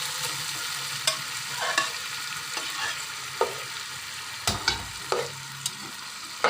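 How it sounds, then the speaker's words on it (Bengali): Boiled lentils are stirred into a fried spice paste in a hot pan for an egg-and-dal dish, with steady sizzling under repeated scraping spoon strokes that come in uneven bursts, close and clear with no talk. "এই যে ডালগুলো কষিয়ে নিচ্ছি।"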